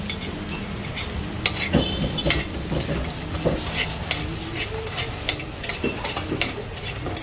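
Garlic browning in hot oil in a pan, a continuous dense sizzle with scattered utensil clinks and stirring taps throughout, fairly close and steady.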